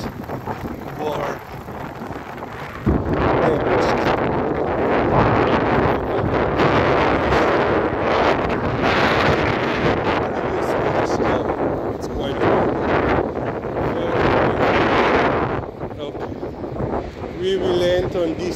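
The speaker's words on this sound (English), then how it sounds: "it's getting quite windy." Strong wind buffets the microphone in a loud, steady roar with gusty surges, easing briefly near the end.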